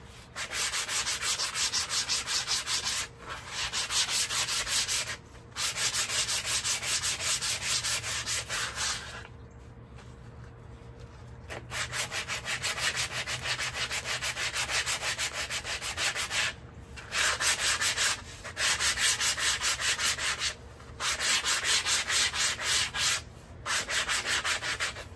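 Steady strokes of 100 grit sandpaper rounding the edge of a wooden self-bow, a close, harsh rasping rub in long continuous runs broken by brief pauses, with no talking.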